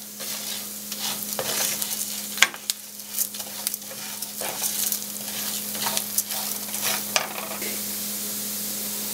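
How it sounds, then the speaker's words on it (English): Rice lightly toasting in oil in a pan for mushroom risotto, giving a steady soft sizzle with repeated scraping and stirring strokes, close and alone without talk. "letting the rice absorb the oils, and lightly toasting the rice"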